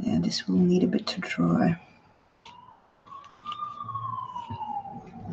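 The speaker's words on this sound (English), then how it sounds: "you can hear the police in the background" A police siren wails faintly in the distance, a slow falling tone drifting under the room noise after a person speaks close by.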